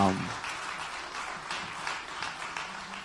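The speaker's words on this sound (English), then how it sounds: "So we just give them a round of applause before we even start." A round of applause at an awards ceremony, steady distant clapping from a crowd that continues at an even level, with a brief voice at the very start.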